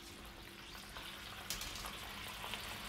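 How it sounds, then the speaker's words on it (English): Pasta being sautéed in a seafood sauce in a pan for a seafood carbonara, giving a steady, moderately quiet sizzle with faint stirring scrapes and a couple of small clinks, no talking. "So now I'm gonna put the pasta in the sauce"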